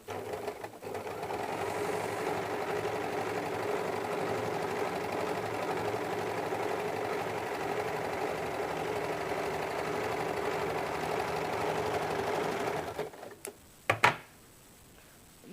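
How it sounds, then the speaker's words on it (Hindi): Sewing machine running a long double line of stitching along the belt of a size 34 blouse, a steady fast whirring hum for about thirteen seconds before it stops, followed by a few small clicks. "मैं इस पर एक बार वो सिलाई डबल सिलाई कर देती हूँ।"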